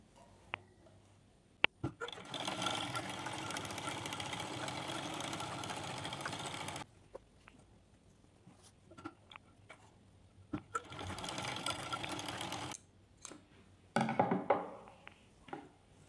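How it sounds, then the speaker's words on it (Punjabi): An electric sewing machine stitches a seam on a salwar in two long bursts of steady, rapid whirring chatter, separated by quiet pauses with small clicks and handling sounds, then a short final run. "ਹੁਣ ਆਪਾਂ ਇੱਕ ਸਿਉਣ ਉੱਪਰਲੀ ਸਾਈਡ ਲਾ ਲਾਂਗੇ"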